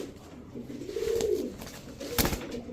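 A pair of red-necked pigeons coo close by, a few soft throaty rolling calls rising and falling, with a brief sharper burst of sound near the end.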